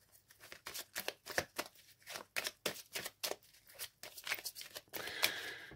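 Cards being shuffled for a tarot-style card reading draw, a quiet run of rapid papery riffles and flicks repeating across the clip, close and soft with no voices.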